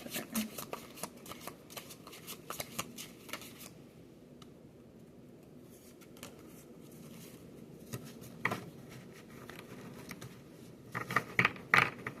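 Tarot cards are shuffled and drawn during a storybook-style oracle reading: bursts of papery riffling and soft card slaps come close up, pause in a quieter stretch, then return as sharper flicks and taps near the end, with no voice.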